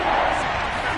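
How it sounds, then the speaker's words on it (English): Stadium crowd in the Madden NFL 22 video game cheers as a big third down approaches, a loud, continuous roar with a commentator's voice over it. "The crowd getting into it as we come up on a big third down."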